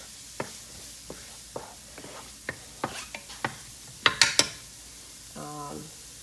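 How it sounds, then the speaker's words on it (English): Onions being stirred in a skillet, a series of sparse utensil scrapes and clicks against the pan, a few sharper taps near the end, over faint background sizzle. "So I'm stirring up my onion for them to get soft a little bit."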